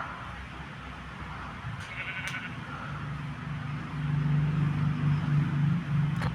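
A sheep in a Minecraft one-block skyblock world bleats in a steady, moderately loud call during the second half, over constant game ambience and faint background noise.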